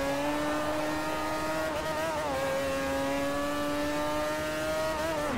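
A Mazda RX-8 in Forza Motorsport 4 revs and holds a high, steady rotary engine whine, its pitch dipping briefly and rising again, loud and continuous throughout with no talking.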